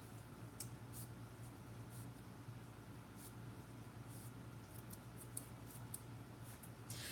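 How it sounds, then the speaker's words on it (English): Scissors cutting Yupo synthetic paper: a faint series of quick, crisp snips scattered over a low steady background hum, close but quiet, with no talk. "I'm going to cut this Yupo."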